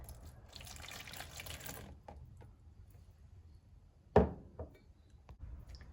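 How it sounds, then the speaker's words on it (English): White vinegar pours into a container in a steady hissing stream for about two seconds, then stops; a single clunk follows a moment later in the quiet. "Pour the white vinegar into your container."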